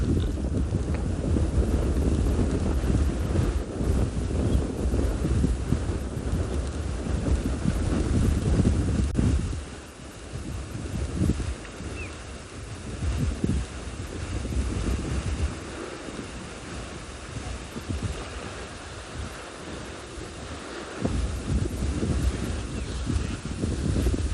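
Steady wind roars across a microphone at an outdoor safari watering hole in South Africa, dense and unbroken for the whole stretch with gustier surges early and after a brief lull midway.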